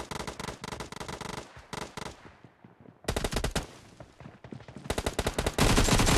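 Automatic gunfire rattles in a PUBG Mobile team deathmatch game: close, loud bursts of rapid shots, then a brief lull, then renewed, denser volleys ending in sustained fire.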